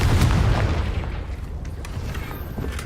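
A Confringo fire spell explodes in Hogwarts Legacy, a loud low boom at the start that rolls into a sustained rumbling blast with scattered crackles, no voices over it.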